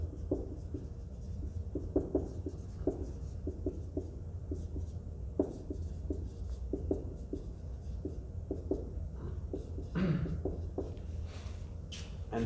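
Marker or chalk scratches on a board while redox reaction equations are written out, producing soft rhythmic taps and strokes with a brief louder scrape near the end over low room noise.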